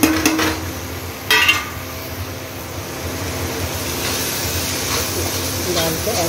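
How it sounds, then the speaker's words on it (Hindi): Fried okra (bhindi) goes into a pan of cooked tomatoes with a brief clatter of utensil against metal, followed by a steady low hiss of cooking and kitchen hum. "ये टमाटर हो चुके हैं और अब इनमें फ्राई की हुई भिंडी हम डाल देंगे।"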